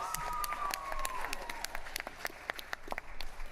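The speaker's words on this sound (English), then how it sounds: "round of applause." Brief clapping from a small live-stream audience, crisp separate claps spaced irregularly over a faint background tone, with light voices underneath.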